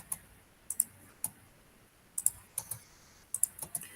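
Computer keyboard keys are struck in short sharp clicks, single and paired, with irregular pauses between, close and fairly quiet in a still room while columns are drawn in drafting software.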